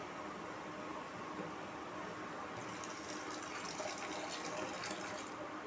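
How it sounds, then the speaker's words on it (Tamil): Milk being poured into a pan for jelly, a soft steady liquid rush with a slightly brighter splashing stream in the second half, faint and continuous. "இப்போ இதில் ஃபைனலாக பாலை சேர்த்துட்றேன்"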